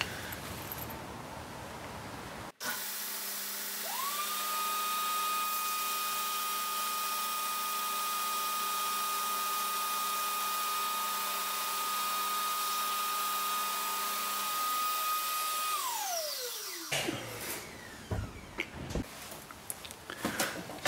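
A small Ryobi vacuum runs steadily beside a running belt sander, pulling away its dust: a sharp start, a sustained whining drone for about twelve seconds, then a falling spin-down and some handling noise near the end.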